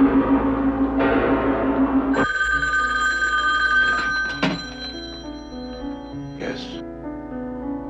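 A telephone bell rings in a few trilling bursts, followed by the clunk of the handset being picked up. Faint voices and ambient hum sit underneath, with a couple of sharp knocks toward the end.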